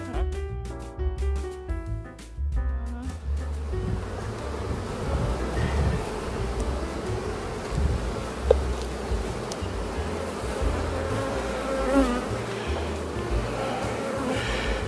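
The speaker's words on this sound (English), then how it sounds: "There's a lot of bees." A dense, steady buzzing of many honey bees at an open hive fills the whole stretch, close and continuous, with a few louder passes flying near.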